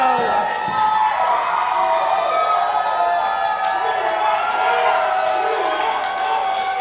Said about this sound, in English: Oh, and the crowd is going nuts for Marco.